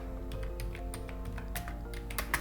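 Steady computer keyboard typing while writing HTML heading tag code, a rapid run of close, crisp keystrokes over a low background hum, with no speech.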